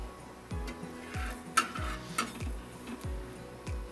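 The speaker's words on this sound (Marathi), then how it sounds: "तर आपण ह्या साईडनं पण चांगलं भाजून घेऊया, खरपूस भाजून घ्यायचं" Dhapate, a Marathi flatbread, roasts in a pan with a soft background sizzle, punctuated by regular low thumps and a couple of sharp metallic clinks from pressing and turning, close and fairly quiet, no talk.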